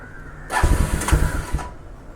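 A Bajaj Pulsar NS200 BS3 motorcycle engine cranks and catches, running briefly with a rough, pulsing idle before cutting out, close and loud, with no talk.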